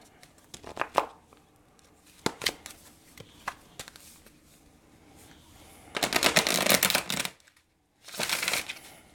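Tarot cards are handled with scattered soft flicks and taps, followed by two longer, dense riffling shuffles near the end, close by and moderately loud with no speech.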